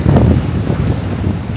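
Strong wind gusting over 30 knots across choppy water on a boat, a heavy low roar buffeting the microphone, loud and unbroken for the whole moment.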